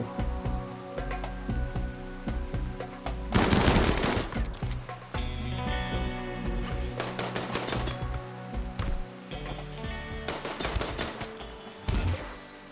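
LMG and assault rifle gunfire in the colony-survival game RimWorld, with scattered bursts of rapid, crackling shots and a few louder volleys over several seconds, some sharp single cracks between, and no talk.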